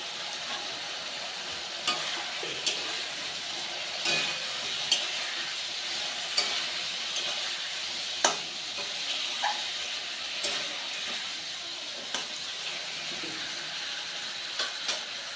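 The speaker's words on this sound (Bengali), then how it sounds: "এবার আমি দেবো হলুদ গুঁড়ো আর দেবো লঙ্কা গুঁড়ো।" Turmeric and chili powder fry in oil while being stirred for a fish curry with drumsticks and potatoes, giving a soft steady sizzle broken by regular scraping clinks of the spoon against the pan.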